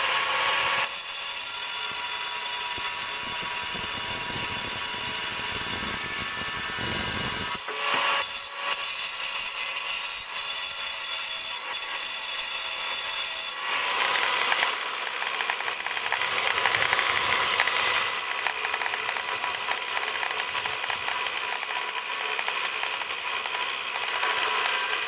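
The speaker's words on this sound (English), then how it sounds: "Now I'll just cut this off and grind this" A power tool cuts and grinds granite with a harsh, continuous high-pitched whine that shifts in pitch as the blade bites and eases, loud and steady throughout with brief dips between passes.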